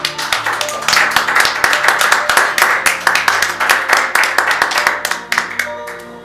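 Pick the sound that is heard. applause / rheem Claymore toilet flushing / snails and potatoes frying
applause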